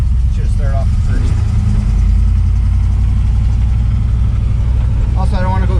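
A 1961 Pontiac Laurentian with a four-speed manual runs steadily, its low engine rumble loud and close throughout the drive, with someone speaking over it.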